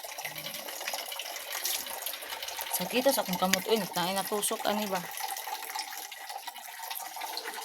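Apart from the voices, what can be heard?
running tap water into a basin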